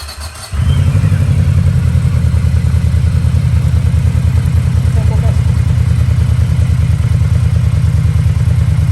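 A 1700 cc motorcycle engine turns over and settles into a loud, close, throbbing idle with a steady pulsing rhythm that runs to the end, while a voice talks briefly at the start.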